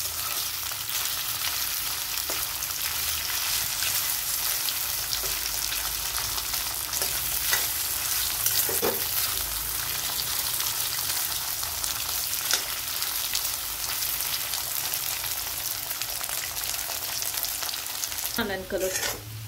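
Potatoes sauté over a full gas flame for sabudana khichdi, producing a loud, unbroken close sizzle with occasional soft stirring scrapes and a sharper clatter near the end.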